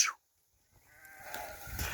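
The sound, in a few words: sheep bleating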